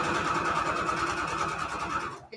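Sewing machine stitching fabric crumb scraps together, a steady, fast, close mechanical whirring with a regular stitching rhythm for about two seconds, then cutting off.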